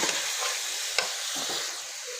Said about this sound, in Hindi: सब्जियां हमने डाल दी और चिकन भी अच्छे से फ्राई हो गया और सब्जियां फ्राई होने लग गई हैं।